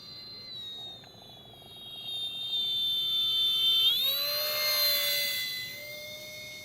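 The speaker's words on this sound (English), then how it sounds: "So there are actually twin EDFs on this one. And they are, kind of screamy" Twin electric ducted fans on an E-Flite Citation Longitude, a small UMX-style RC jet on a 2S battery, give a high, screaming whine that holds steady, then sweeps and shifts pitch as the plane passes nearby, with no one talking.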